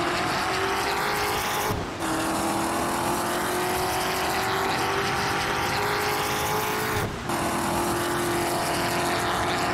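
Ford-engined Ferrari P3 race car in Assetto Corsa, its engine holding a loud, steady high-revving drone with two brief dips around gear shifts, close and continuous throughout with no voices.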